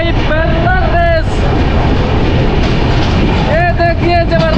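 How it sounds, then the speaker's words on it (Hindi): The Champaran Humsafar Express and the Saharsa–Patna Rajya Rani Express run side by side on parallel tracks, with a loud, continuous rumble of wheels and wind broken by blaring horn blasts at the start and end. "चंपारण हमसफर एक्सप्रेस के साथ लग चुका है भाई पैरेलल रेस"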